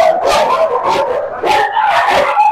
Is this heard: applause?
no